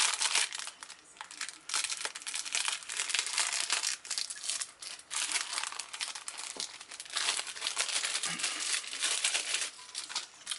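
Crinkly plastic and paper packaging being cut and torn open on a 1/35 scale AFV Club M42A1 Duster model kit, a close, continuous rustling and crumpling that lasts throughout.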